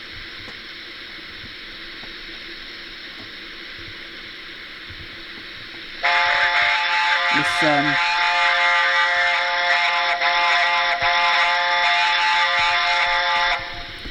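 Dapol black label A4 model steam locomotive sounds off its whistle: a loud, sustained harmonic blast starting partway through over quiet running background, holding steady for several seconds before cutting off abruptly, with a brief low lower-pitched tone near its start.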